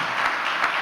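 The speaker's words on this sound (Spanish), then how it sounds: "Primero pedir un aplauso para Marcelo porque lo que acaba de decir creo que lo merece" Brief applause from the audience at a live podcast recording, a soft, even patter of clapping heard from a moderate distance.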